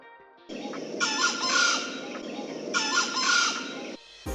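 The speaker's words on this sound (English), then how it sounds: "Playing the very distinctive call of the jungle fowl from a speaker" Jungle fowl call broadcast from a portable speaker outdoors in Bali, two long loud crowing bursts with clucking undertones, played clearly and alone.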